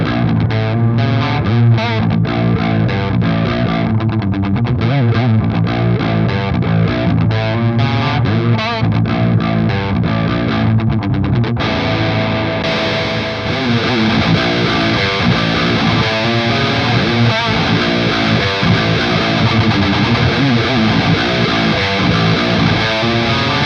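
High-gain metal guitar through a SLAMURAI overdrive pedal, played loud and continuous, with the tone audibly shifting partway through as the pedal is switched; no talking.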